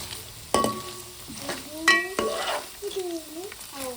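Paneer cubes cook in oil, butter and ghee, giving a continuous hissing sizzle broken by a few stirring knocks and scrapes against the pan. Nobody speaks.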